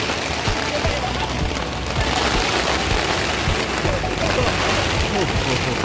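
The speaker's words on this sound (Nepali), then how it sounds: "यहाँ ठुलै पानी परिसक्यो।" Heavy rain pours down on a forest campsite in Kalikot, Nepal, a steady dense roar of downpour filling the whole stretch, with people talking underneath.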